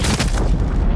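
Artillery strike in Call of Duty Modern Warfare: a loud, dense, rumbling boom filling the whole second with heavy low-end roar.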